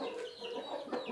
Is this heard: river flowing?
no